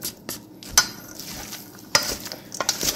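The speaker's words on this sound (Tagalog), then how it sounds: "Titikman natin kung haluin lang natin siya." Pork sisig is stirred in a hot pan, with a low sizzle underneath and several sharp metallic scrapes and clinks of a utensil against the pan at irregular intervals, close up.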